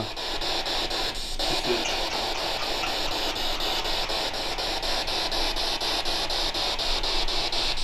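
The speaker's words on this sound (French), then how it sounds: "Même s'il trouve le son de la Spirit Box très endormant en plus." A spirit box during a paranormal investigation in a manor, giving a steady wash of loud white-noise static with a faint whine and pulsing sweep, continuous throughout with no clear voice.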